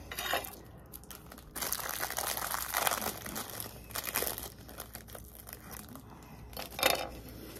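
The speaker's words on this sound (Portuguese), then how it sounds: "Vou usar minha tesourinha vermelho petista, vermelho PT, para cortar aqui." Small red scissors snip open a packet of Brazilian biscuits, with close crinkling and crunching of the plastic wrapper in bursts alongside the cuts, no talking.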